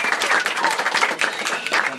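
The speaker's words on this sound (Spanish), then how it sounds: "Un aplauso para la gente que nos está viendo en directo." An audience at a live event in a Trujillo clan shop claps in quick, steady applause, moderately loud and close, with a little crowd noise mixed in.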